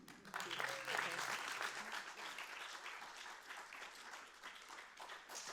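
Audience applause breaks out at a city council meeting, a dense wash of clapping that swells loud at first and then holds steady across the room, with some voices mixed in.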